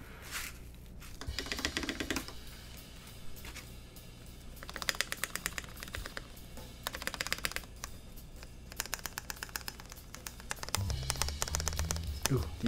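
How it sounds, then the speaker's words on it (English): Keys clack in quick bursts on a TGR 910 CE mechanical keyboard fitted with 67g Tangerine switches, a loose rattle running under brisk, close typing, with a voice speaking faintly in places. "Ooh, do you guys hear the rattle?"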